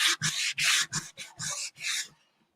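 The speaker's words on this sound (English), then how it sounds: "I put the white chalk paint down, because it's just easier to sand this" Wood coated in white chalk paint sanded by hand in about seven brisk back-and-forth strokes, close and clear, ending in silence.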